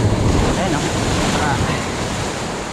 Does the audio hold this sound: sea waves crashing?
yes